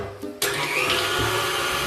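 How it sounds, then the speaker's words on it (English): A stand mixer with a paddle attachment creams room-temperature unsalted butter, a steady loud motor whir that starts abruptly and keeps a constant churning hum. "Cream together 3/4 cup of unsalted butter at room temperature in a standing mixer fitted with the paddle attachments."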